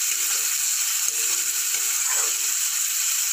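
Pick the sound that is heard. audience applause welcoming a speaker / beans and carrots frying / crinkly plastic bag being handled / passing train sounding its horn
beans and carrots frying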